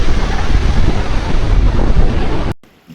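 Strong wind buffets the microphone on an Icelandic beach, a loud, continuous rumbling roar that cuts off abruptly near the end, leaving brief quiet.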